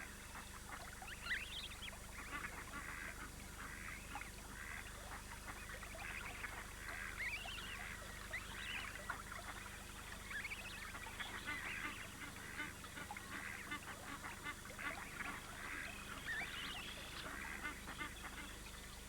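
Giant Canada geese on a wildlife refuge honk repeatedly in overlapping calls, a flock chorus at moderate distance over a quiet outdoor background.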